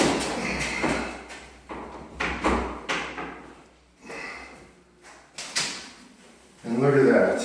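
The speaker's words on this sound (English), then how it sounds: "Door moves very smooth." A newly installed mirrored sliding closet door glides along its track, with soft rolling, light knocks and thuds as it stops, and someone talks between movements.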